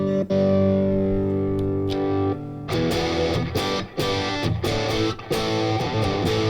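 A Fender Champion 50XL guitar amp set to a thicker British voicing plays a sustained distorted chord that rings out, then gives way to a run of chunky, choppy gain-driven strums and palm-muted hits.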